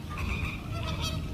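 Greater flamingos calling in a Greek coastal wetland in winter, a dense, continuous chorus of nasal, goose-like honking from a large flock, loud and steady throughout.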